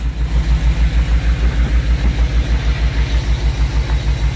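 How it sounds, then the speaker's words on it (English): A 1979 GMC C15 truck engine with newly welded exhaust and a remaining exhaust leak idles close by with a steady, lumpy pulsing rhythm and a slightly puffing, uneven exhaust note. "Sounds like I got an exhaust leak somewhere still too, but still, sounds better."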